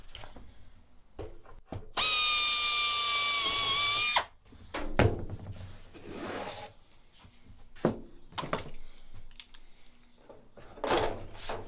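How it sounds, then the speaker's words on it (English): A power drill bores holes for the fixture of a Zenith 701 experimental airplane wing access panel, one steady whining burst of about two seconds, then quieter handling clicks and knocks in a workshop. "just to drill the 2 that are going to hold the fixture in place"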